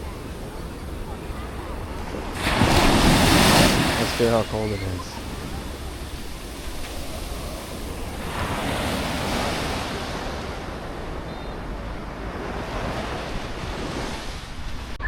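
Ocean waves wash onto the China Sea shore at Xiamen, a steady broad surf hiss with a louder surge early on and wind buffeting the microphone, while a person speaks briefly over it.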